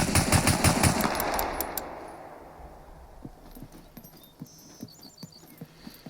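Rapid bursts of M1911 pistol gunfire in the survival game SCUM, fired without aiming down the sights: a loud volley of sharp shots up front, then a string of quieter, spaced reports trailing off.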